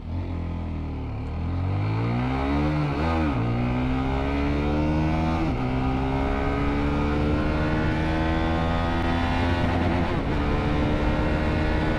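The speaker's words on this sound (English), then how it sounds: "it's quite good fun to actually rev around and beast it a little bit" A 2022 Sinnis GPX 125 motorcycle engine revs hard and loud up close, its pitch climbing and falling in repeated sweeps as the throttle is blipped toward the limiter.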